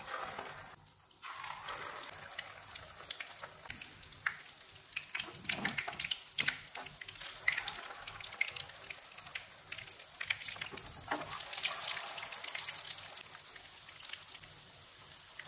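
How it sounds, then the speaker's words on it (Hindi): Egg-dipped kebabs frying in hot oil over a medium-low flame give a continuous, fine crackling sizzle with scattered pops, steady and moderately close, and no voices. "कबाब को अंडे में डिप करके फ्राई कर लेंगे।"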